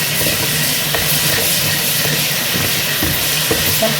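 Onion frying in a pan with milk just added, giving a steady close sizzle and bubbling with a few faint stirring clicks, no voices.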